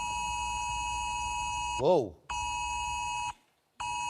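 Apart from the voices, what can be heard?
UK emergency alert test tone on phones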